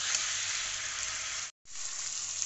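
Boneless chicken curry masala sautéing in a pan, a dense continuous sizzle broken by one brief silence, moderately quiet and with no talking.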